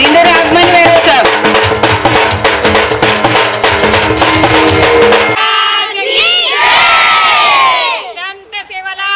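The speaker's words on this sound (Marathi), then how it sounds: "टाळी वाजून स्वागत करो" A large crowd at a women's day gathering in Akola cheers and shouts loudly to welcome a guest, a dense roar of voices that gives way to scattered shouts and whoops toward the end.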